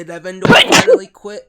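A single sharp sneeze bursts out between stretches of conversation during a tabletop role-playing game session, loud and close, with voices talking just before and after it.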